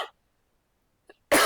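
A single short cough from a teacher in a quiet classroom lecture, a brief burst at the start and a tiny sound later, then a loud noisy burst at the end.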